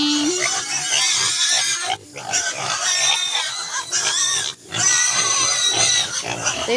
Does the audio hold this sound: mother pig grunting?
yes